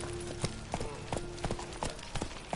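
Roach, a horse in The Witcher 3, trots with rhythmic clip-clop hoofbeats that fall at a steady pace over a low ambient hum.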